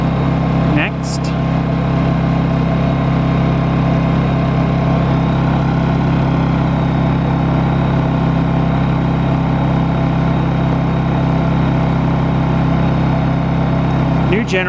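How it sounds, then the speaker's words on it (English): A brand-new Honda EU2200i portable generator runs at a steady, even hum throughout, close and constant with no change in pitch, while a person talks briefly over it. "New generator, brand new, one purchased in a store."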